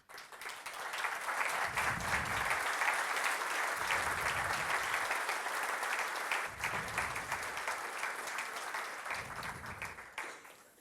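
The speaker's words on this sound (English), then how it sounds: "please, you to make a big applause to them" Sustained applause from a conference audience, a broad even wash of many hands clapping that holds steady and fades out at the end, with no talk over it.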